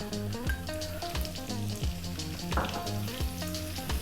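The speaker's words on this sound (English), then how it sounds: "In go the 2 teaspoons of the cumin seeds, followed by our sliced onion." Cumin seeds and sliced onion frying over high heat in coconut oil, a steady loud sizzle with crackling spits throughout, alongside a background of music with a clear repeating beat.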